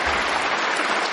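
Delegates at a political party's autumn conference hall applaud in a dense, steady burst of clapping that fills the space, loud and continuous throughout.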